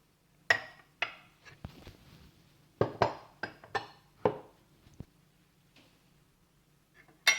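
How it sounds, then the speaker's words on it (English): A spoon clinks against the inside of a cup while tea is stirred with the tea bag still in, giving a series of close, sharp ceramic taps in uneven bursts, with a quiet pause before a final clink. "Stir it a bit more."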